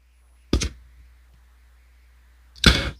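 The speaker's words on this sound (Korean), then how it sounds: "자, 여러분들 조언 카드 한번 뽑아보도록 할게요" A tarot advice card is drawn from the deck, making two short, crisp snaps about two seconds apart in an otherwise quiet room.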